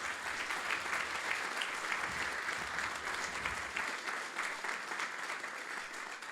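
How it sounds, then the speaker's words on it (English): Sustained applause from an audience in a hall at a presentation event runs dense and even the whole time, heard from a distance at a fairly soft level with no talking over it. "Please give a big round of applause for the entire team of C International"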